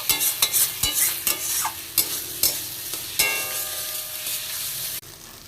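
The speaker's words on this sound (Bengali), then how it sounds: "এতে কিন্তু রয়েছে রসুন আদা জিরা আর কাঁচা লঙ্কা এবার ভালো করে নেড়ে চেড়ে কষিয়ে নিতে হবে" Garlic, ginger, cumin and green chilli are stir-fried in hot oil for jackfruit prawn curry: a loud, close sizzle broken by repeated sharp scrapes and clacks of a spatula against the pan, with no talk.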